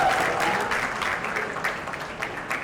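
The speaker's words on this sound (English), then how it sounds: "I'd like to hear a round of applause for man" An audience at a Salman Khan press conference for ISRL 2025 applauds in a loud, sustained burst of clapping. The sound is close and full at first, then tapers slightly toward the end.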